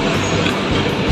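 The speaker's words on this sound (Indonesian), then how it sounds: "Kendaraan berat juga lewat jalur ini." Heavy vehicles roll through the Buyaran underpass on the Semarang–Demak toll road, making a steady, loud, close rumbling roar that continues without a break and with no voices.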